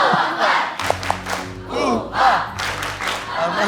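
A studio audience at the Hafiz Indonesia 2020 broadcast performs the Al-Mantabe cheer, a rhythmic burst of group clapping and shouted chanting from a sizeable crowd that rises and falls in waves.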